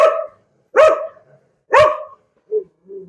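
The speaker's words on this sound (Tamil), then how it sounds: "ஒரு நாய் ஒன்று சத்தம் கொடுத்துக்கிட்டே இருக்கு" A dog at a traditional hand-pounded rice mill barks three times in loud, close, evenly spaced bursts, followed by two shorter, softer whimpering yips, with no talking.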